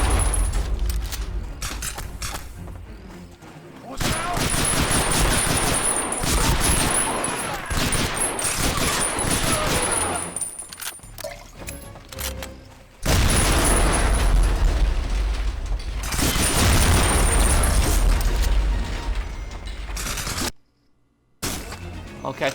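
An automatic weapon rattles off long sustained bursts in Medal of Honor Rising Sun, loud and dense, with short pauses between volleys and voices talking through parts of it.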